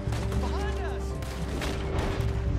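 Gunshots from a bolt-action rifle in a video game, in Red Dead 2, heard as sharp reports over continuous game noise and a voice talking.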